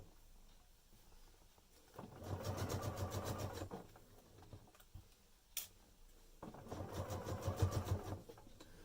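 A sewing machine stitches a fabric Easter egg in two steady running bursts of rapid mechanical chatter, separated by a pause with a brief click, close and moderately loud with no talking.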